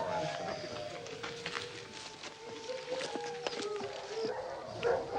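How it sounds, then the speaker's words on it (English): Faint dogs bark and yelp in the distance, a scattered chorus of calls heard under people talking nearby. "those dogs are definitely getting louder"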